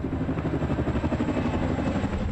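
Attack helicopters flying overhead near the Korean DMZ, a loud, steady rotor thump with rhythmic blade pulses and engine roar, continuous and close.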